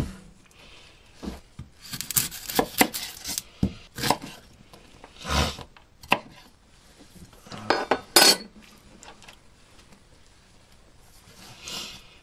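An onion is cut with a knife on a board in a home kitchen, heard as irregular clusters of sharp chops and scraping strokes separated by quiet pauses.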